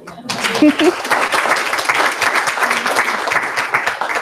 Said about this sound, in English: Round of applause, maybe?